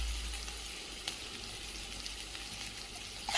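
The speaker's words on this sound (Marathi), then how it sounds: "थोड्या मिरच्या परतल्या का मग हळद टाकायची," Green chillies and turmeric fry in a pan as a soft, steady sizzle with a few light stirring scrapes, close and fairly quiet with no talking.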